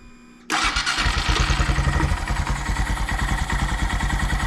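A 2023 Honda Monkey motorcycle with a modified intake starts up abruptly after a faint hum, then settles into a loud, close, rapid, even-pulsed idle putter with no talking.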